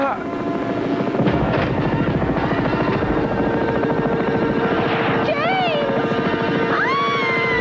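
A cartoon helicopter flies in an animated action scene, its loud rhythmic rotor chop running steadily throughout, with voices and whistling tonal effects layered over it near the end.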